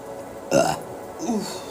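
Two short burps, a louder one followed by a softer second, close and unaccompanied in a quiet indoor space.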